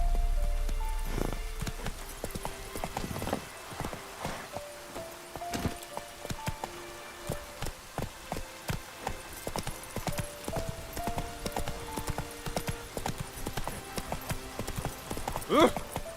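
Horse hooves clip-clop in rhythmic, fairly loud steps as a horse gallops in The Witcher 3 video game, with in-game music tones underneath and a brief voice line.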